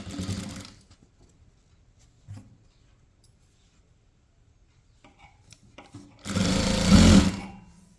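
A sewing machine stitches a blouse seam in two short whirring bursts, a brief one at the start and a louder, longer run near the end, close and loud with quiet handling sounds between them.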